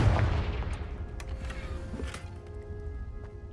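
The Confringo fire spell cast in the Hogwarts Legacy video game bursts out as an explosive blast at the start, then fades into a low, lingering rumble with a few faint crackles and small impacts.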